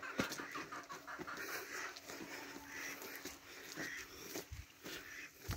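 Ducks wander the grounds of Kharaberia Eco Adventure Resort, giving faint, scattered short calls against quiet outdoor background noise.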